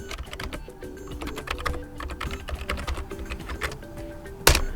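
Quick, fairly quiet keystrokes on a computer keyboard, tapped in an uneven run, ending in one sharper, louder key press.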